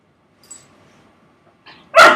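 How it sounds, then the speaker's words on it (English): One loud, close dog bark bursts out at the very end after near silence, preceded only by a faint whimper-like sound. "All I hear is a dog barking loudly"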